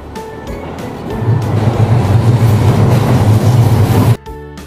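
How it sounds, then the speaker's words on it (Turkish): A tram passes close by with a steady low rumble and rolling hum that builds and holds loud for about three seconds, then cuts off abruptly. "Bu tramvay."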